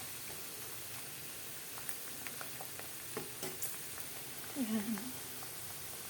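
A small batch of peanuts fries in a pan with a constant soft crackling sizzle throughout, a few light ticks and stirring scrapes, and a voice speaking briefly near the end.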